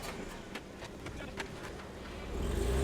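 Jeep Wrangler JK crawling over rock on 33- or 37-inch tyres, the engine low and fairly distant under faint scrapes and knocks, rising into a louder, closer throttle surge toward the end.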